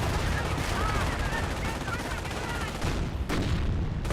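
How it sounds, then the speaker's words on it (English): A .30 cal machine gun fires away in the Company of Heroes game, dense rattling bursts mixed with other gunfire and battle noise, running continuously with a voice talking over the combat. ".30 cal firing away."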